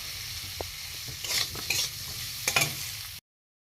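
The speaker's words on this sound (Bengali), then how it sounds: "লঙ্কাটা একটু হয়ে গেছে, একটু ভালো করে ভেজে নেব," A spice paste of chili, turmeric, cumin, coriander and salt fries in oil for a vegetarian papad curry, giving a soft steady sizzle with scraping stirs and a few louder clatters, cutting off abruptly near the end, no voices.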